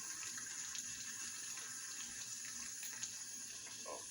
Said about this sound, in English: Let me add some more hot water to it.